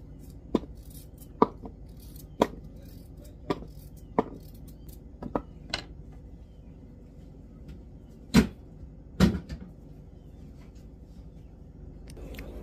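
Knife chopping ingredients for a homemade cake on a cutting board, a dozen sharp, evenly spaced taps at first, then two louder heavy chops with a faint kitchen hum beneath.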